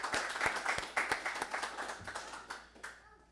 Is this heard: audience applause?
yes